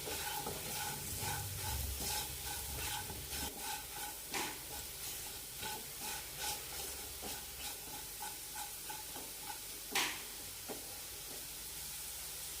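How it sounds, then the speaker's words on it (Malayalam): Colocasia (taro) pieces coated with rice flour sautéing in a pan, a soft continuous sizzle broken by repeated stirring scrapes and taps, one louder knock near the end, quiet and close with no talk. "ഒരു മിനിറ്റ് കൂടി നന്നായി വഴറ്റി കൊടുക്കാം"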